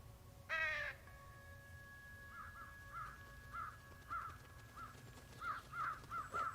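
Crows called to a rubbish heap in the adventure game Trüberbrook caw repeatedly: one sharp caw, then a run of shorter, fainter caws spaced irregularly over a quiet background drone.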